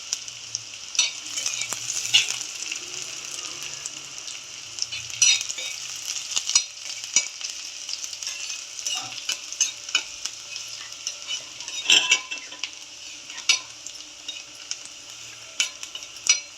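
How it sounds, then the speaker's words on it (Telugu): Onion pieces fry in a pan, a continuous close sizzle punctuated by frequent sharp clicks and scrapes of a spatula stirring against the metal, with no voices. "ఉల్లిపాయల ముక్కలు వేసుకొని ఫ్రై చేసుకోవాలండి"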